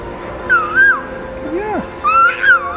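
Nearby dog whimpers in several high, wavering whines at a temple in Japan, with people talking softly around it.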